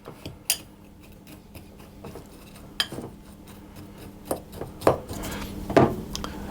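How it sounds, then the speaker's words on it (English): Spoon stirring spices and flour into sugar in a bowl for walnut streusel coffee cake, irregular scraping and clinking taps, a few sharper knocks, close and fairly quiet, with no talking. "I'm just going to stir that around and break that sugar up a little bit"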